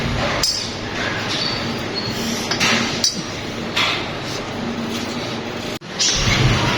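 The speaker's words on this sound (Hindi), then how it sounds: "ये साथ में धुआं गोश्त के लिए प्याज काट रही हूँ।" Onion being chopped with a knife on a board for a smoked meat dish, set beside a portable burner in a home kitchen; steady light knocking and clinking cuts repeat throughout, close and moderately loud with no talking.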